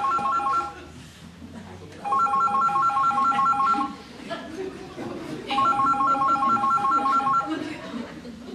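A telephone rings in two long trilling bursts separated by a pause, loud and close, during a Swiss stage play, with people talking underneath.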